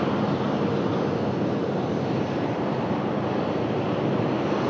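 An airliner cleared for takeoff from runway 1 right at a busy airport roars steadily and loudly with broadband engine noise, a continuous rumble with no break and a touch of wind.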